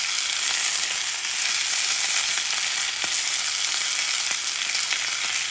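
Flank steak fries in a hot pan with a loud, dense, continuous sizzle and crackle, steady throughout with faint pops and no voices.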